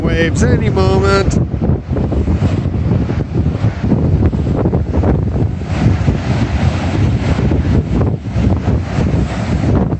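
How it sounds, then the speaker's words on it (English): Ocean waves roll and crash onto the shore during a king tide, a loud continuous wash of surf buffeted by heavy wind noise. A voice speaks briefly at the start. "Should have some crashing waves any moment."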